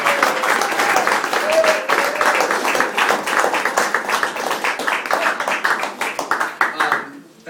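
An audience applauds in a dense, continuous wash of clapping that tapers slightly near the end, with voices audible underneath.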